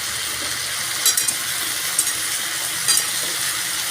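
Mixed winter vegetables sauté with spices and green chillies, a loud continuous sizzle close up with a few brief scrapes of a spoon stirring the pan and no talking.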